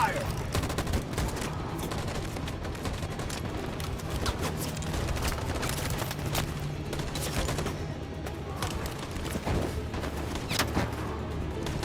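Rapid gunfire crackles in a dense, continuous fusillade during a firefight in the video game Detroit Become Human, with scattered heavier bursts and voices shouting now and then beneath the shots.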